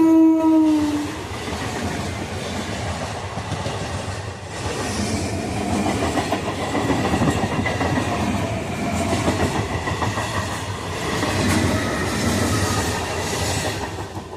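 A passing train opens with a short horn blast, then a steady loud rumble and rhythmic wheel clatter that carries on throughout.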